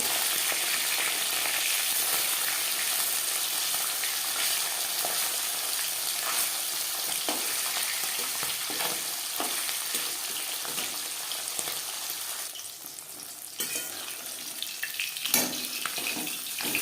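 Steady hiss of fish frying in hot oil, with scattered pops and crackles throughout and a few louder spits near the end.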